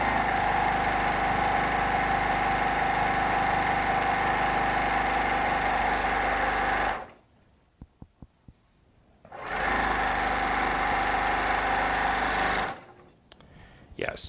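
A Baby Lock Accomplish sewing machine runs at high speed with a loud, steady motorized whir, stops for a couple of seconds, then starts again at full speed before falling quiet once more.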